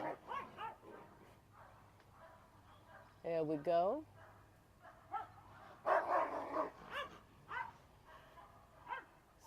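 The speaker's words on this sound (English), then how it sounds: "So there's a dog on the other side of the fence." A dog barks in short bursts from the far side of a garden fence, a few sharp woofs and yips heard at moderate distance while a person talks nearby.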